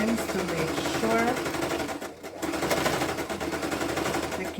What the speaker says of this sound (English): I'm going to be zigzagging the end because this is not a serger.